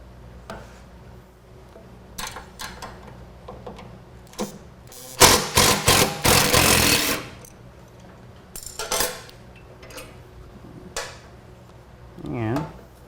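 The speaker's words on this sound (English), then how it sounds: "Use a T45 9/16 wrench for the front side." Tool work on motorcycle saddlebag rail bolts with a T45 and 9/16 wrench: scattered metallic clicks and clanks, a louder cluster of ratcheting bursts midway, close up, with a few quieter taps afterward.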